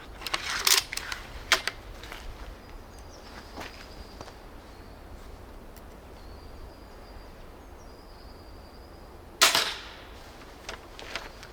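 An Adder V3 blaster fires at a coconut: a few sharp snapping shots, a cluster near the start and one louder crack later, separated by quiet stretches of faint background.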